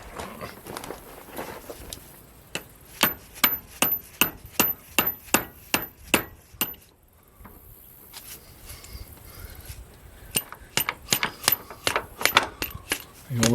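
A hammer taps a clip into place on a Polaris 700 twin snowmobile, a long run of sharp, evenly spaced metallic strikes, close and loud, with a pause and then more quick taps.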